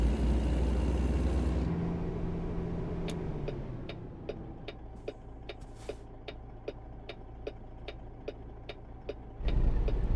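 A truck in a video game hums with a low engine drone that fades down, then a steady ticking like a turn signal clicks at an even pace for several seconds before the engine swells again; no talking.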